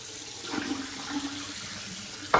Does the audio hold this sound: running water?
yes